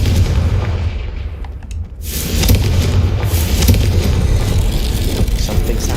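A deep, booming blast from the Confringo spell in Hogwarts Legacy, a loud explosion that swells after a brief lull and then rumbles on steadily.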